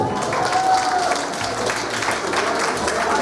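Wedding guests clap for the groom during a Polish wedding's unveiling games, a steady crowd applause of broad patters running the whole span, with a few voices mixed in under it.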